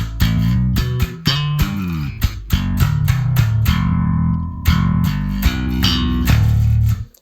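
An electric bass plays a slap line with thumb slaps, pops and slides, punchy percussive notes in a short rhythmic phrase, close and loud with brief gaps between notes.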